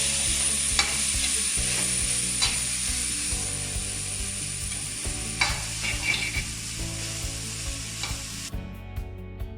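Kovakka thoran with grated coconut stirred in a hot pan, a soft continuous sizzle under repeated scraping strokes of the spoon, close and fairly quiet, ending abruptly.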